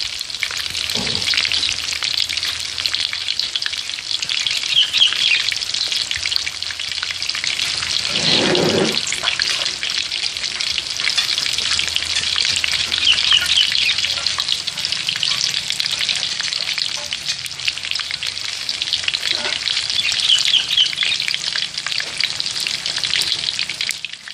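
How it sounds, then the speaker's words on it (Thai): Snakehead fish frying in oil gives a loud, continuous sizzle with crackling spatter throughout, a brief deeper rustle midway, and no talking. "ก่อนหนึ่งก็คือเราจะต้องเอาปลาช่อนมา ทอด กับน้ำมันก่อนนะครับ"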